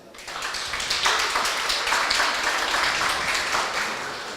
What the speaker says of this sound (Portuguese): Vamos recebê-la com aplausos.